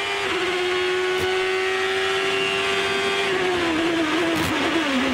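Graham Rahal's ChampCar race car on the Surfers Paradise street circuit, heard onboard as a loud, steady high-pitched engine scream with small pitch shifts as the driver works the throttle, without any voices.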